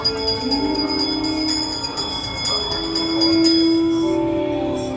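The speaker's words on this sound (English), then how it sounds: "give us a hint by ringing a bell" Bells ring with sustained tones that overlap and linger, mid-loud, over a busy background inside the Haunted Mansion attraction.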